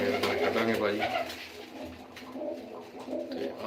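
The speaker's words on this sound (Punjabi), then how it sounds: "ਇੱਧਰ ਕਬੂਤਰ ਬੈਠੇ ਨੇ ਜੀ" Soft pigeon coos murmur close by, low and rolling, mixed with faint background voices.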